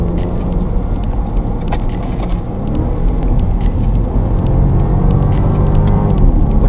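A Range Rover Velar SUV driving, about two tonnes, heard from inside as a steady, fairly loud low rumble of engine and road noise that builds slightly, with no talking.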